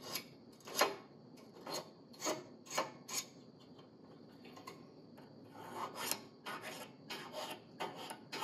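A file rasps across an engine piston ring to set its gap, making repeated short, fairly faint strokes in an uneven rhythm with only brief pauses between them.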